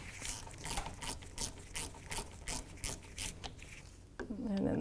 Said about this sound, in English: We're going to break that caliper bolt free.